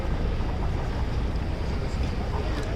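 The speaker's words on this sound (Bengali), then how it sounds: "এই যে ওয়াটার ট্যাক্সিটা যাচ্ছে" A water taxi motors past on a Venice canal, a broad, continuous engine rumble and wash of water mixed with heavy wind buffeting on the microphone.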